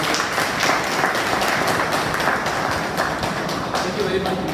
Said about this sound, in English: So can we have a round of applause for